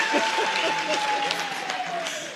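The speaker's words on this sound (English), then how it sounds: "Can we clap hands for her, please?" An audience at a teachers' union provincial general council claps for the chairperson. The clapping is brief, moderately loud and mixed with cheering voices, while a sustained tone runs beneath it.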